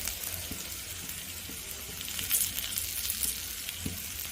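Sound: spice tempering sizzling in hot oil

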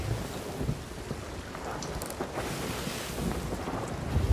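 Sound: thunderstorm at sea in pirate video game

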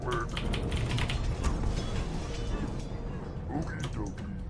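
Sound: clicking of a computer keyboard being typed on

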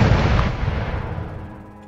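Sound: cannon fire in the Roblox horror game Judy

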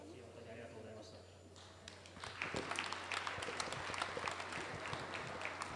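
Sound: applause at an awards ceremony

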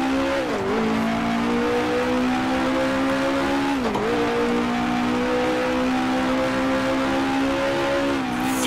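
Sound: 1966 F1 race car engine in video game Grand Prix Legends

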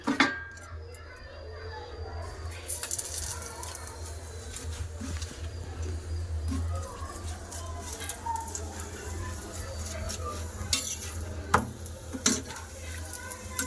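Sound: frying paratha in oil on a tawa

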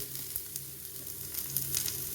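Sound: coconut frying in a pan

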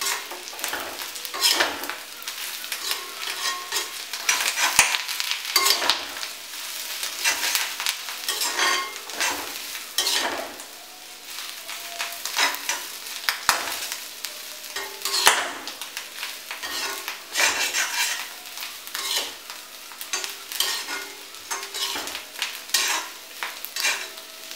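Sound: stirring clam fry with curry leaves in a pan

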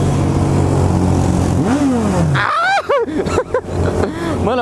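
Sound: Suzuki Bandit S 1250cc motorcycle engine revving

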